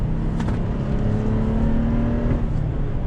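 A 2021 Toyota 4Runner Nightshade accelerates on throttle through a bend, its five-speed automatic dropping a gear as the engine note rises in a steady, loud, close drone with no talk over it.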